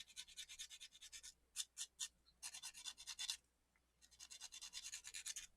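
A sanding stick scrapes along the edge of a small sci-fi model base piece in quick, close, faint rasping strokes, in bursts broken by short pauses.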